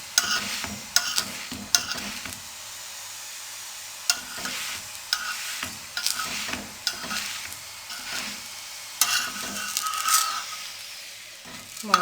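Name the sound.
chickpea filling being gently cooked and stirred in pan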